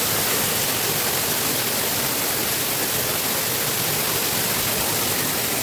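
A waterfall at Digawale Ranjanwadi in the Konkan region roars as a dense, constant wash of rushing water, loud and unbroken throughout.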